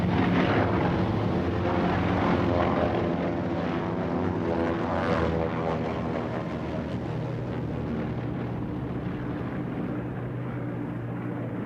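A Martin Mars flying boat with piston propeller engines drones steadily in flight, a loud, continuous propeller roar that holds throughout without any voices.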